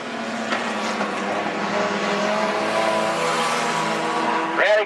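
Outlaw sedan race cars roar around the Macs Speedway track, a continuous loud engine drone with tire squeal near the end, while a commentator talks over it.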